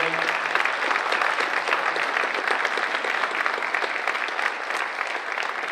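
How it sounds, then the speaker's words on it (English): Steady, dense applause from an audience honoring award-winning students at an evening awards ceremony, a continuous wash of many hands clapping at even loudness throughout with no talking. "can we please give a round of applause for all of our students at the award winners tonight?"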